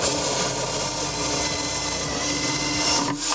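A drill bores a hole for a cabinet hinge during kitchen fitting, a steady, loud whir that runs continuously before cutting off briefly at the end.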